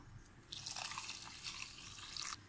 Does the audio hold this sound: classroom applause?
no